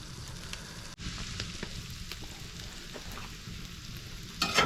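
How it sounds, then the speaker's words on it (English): Gyro meat browns in a pan on a wood cookstove, a steady close sizzle with scattered crackles and pops throughout. A brief dip comes near the start, and the sizzle rises sharply louder at the very end. "So we're going to brown it up, and we're going to have some gyros."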